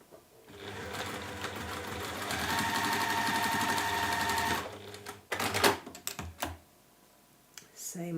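A sewing machine runs steadily for several seconds while stitching a ribbon and felt purse, a close, even whirring hum that stops, followed by a few sharp clicks and handling knocks.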